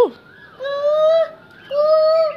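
A small child imitates a cuckoo's call, two drawn-out, tonal "koo" sounds with a short gap between them, close and clear.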